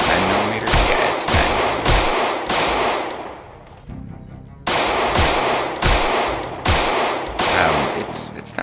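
A 9mm pistol fired at zombies in Project Zomboid Build 41: a steady string of loud, sharp shots in quick succession, broken by a brief pause midway before the firing resumes.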